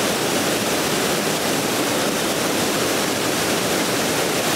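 A waterfall in Iceland roars as a steady, dense, broadband rush of falling water, loud and close, unchanging throughout with no voices over it.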